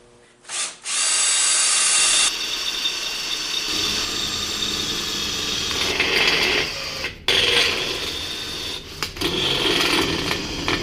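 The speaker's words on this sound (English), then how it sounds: "I'm going to drill out the rivets, take that off" A power drill whines loudly in sustained bursts, briefly stopping and restarting as it bores out metal rivets on a snowmobile track, with no voices.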